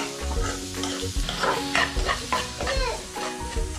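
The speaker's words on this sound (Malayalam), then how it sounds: "നമ്മൾ ചെറുതായിട്ട് അരിഞ്ഞു വെച്ച സവാള ആഡ് ചെയ്തു. സവാള ഒരു ബ്രൗണിഷ് ആകുന്ന വരെ വേവിക്കണം" Finely chopped onions fry in a pan while a utensil stirs them, giving a close, continuous sizzle with irregular scraping and clattering strokes layered over it.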